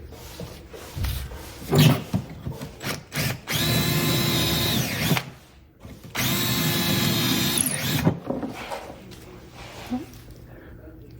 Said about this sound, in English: I'll just cut through the back with the drill bit.